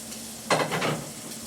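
Broccoli hitting hot olive oil in a pan, a sudden close sizzle that bursts in and then settles into a steady frying hiss over a faint background hum.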